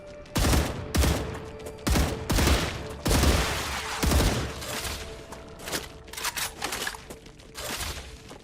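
Gunfire in the Star Rupture video game: loud bursts of rapid shots in clusters about once a second, then a quicker, more ragged stretch of firing near the end, with no speech.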